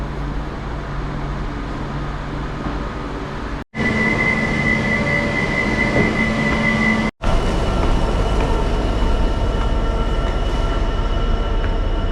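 A train on a UK Midlands rail journey near Nuneaton gives a continuous rumbling drone with faint tonal whines, heard from inside. It is broken by two brief silent cuts.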